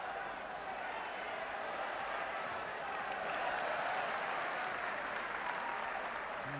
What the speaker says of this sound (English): And he gets good applause